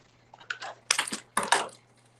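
Clear plastic sheet being cut, heard as a few short crisp snipping and crinkling bursts in quick succession, close and fairly quiet, with no voices.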